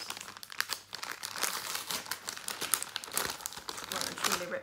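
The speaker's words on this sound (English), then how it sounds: "I always end up ripping the stickers." Stickers being peeled and torn off a subscription box package, a steady crinkly tearing and crumpling rustle close up, with someone talking over it.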